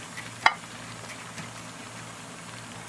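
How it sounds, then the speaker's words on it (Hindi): Singapore noodles with prawns and chicken being stir-fried, a faint steady sizzle in the pan with one sharp clink of a utensil near the start. "इसको अच्छी तरह से मिक्स करेंगे, ऊपर नीचे कर दें इस तरह से"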